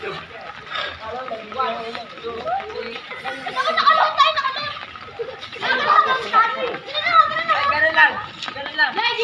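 Children playing and splashing in floodwater left by Typhoon Carina, with excited chatter, shouts and laughter from several kids close by and a voice talking over them throughout.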